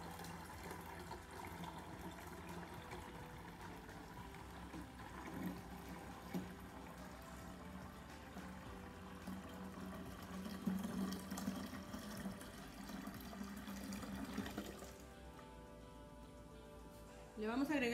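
Water runs steadily into a gallon jug of homemade lemonade, a continuous close liquid stream with a brief louder splash near the end.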